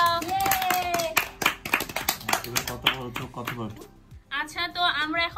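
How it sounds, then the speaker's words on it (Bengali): A group of young children clapping together in a home lesson, a fast patter of close handclaps for several seconds, with children's voices talking and cheering over it near the end. "একটা হাততালি দাও"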